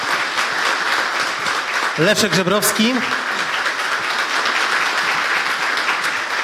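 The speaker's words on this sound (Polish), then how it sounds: "I tutaj oczywiście wielkie brawa, redaktor Stanisław Michalkiewicz." An audience applauds at a book premiere, steady dense clapping from a crowd in a hall that continues throughout, with a voice briefly announcing a name over it.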